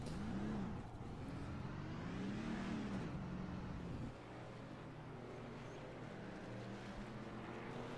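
A race truck on a Chicago street course, in third gear, roars steadily before its RPMs drop and the engine note sinks to a lower, rumbling drone, close and loud throughout.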